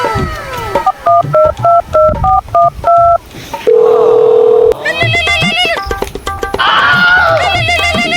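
A telephone number is keyed in as a quick run of short, loud dialing beeps, followed by longer sustained electronic phone tones and warbling signals.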